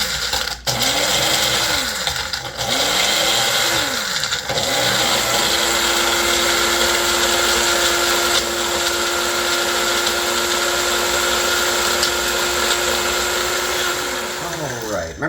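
A Magic Bullet blender grinds tomato into powder, starting with a few short pulses and then running steadily with a high, loud whine that holds for about ten seconds before cutting off near the end.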